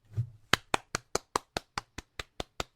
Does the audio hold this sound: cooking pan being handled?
no